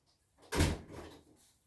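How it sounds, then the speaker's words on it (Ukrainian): A door in a village house closes with a single muffled thump and brief rattle, fairly near and faint in a quiet room. "Ой, зараз тут двері закрию"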